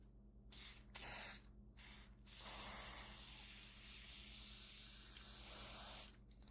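Gun cleaner sprayed onto the bolt head of a K31 rifle: a few short bursts of hissing spray followed by a long continuous spray, close and fairly soft, with no talking.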